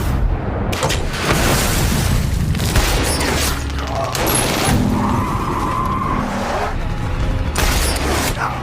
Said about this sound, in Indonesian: Dari atap, Meller mulai menembaki para preman itu.